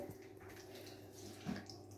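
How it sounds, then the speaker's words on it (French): A small waterfall in a turtle tank gives off a soft, steady trickle of running water. It stays faint and continuous throughout, with one slightly louder splash near the middle. "Il y a la petite cascade."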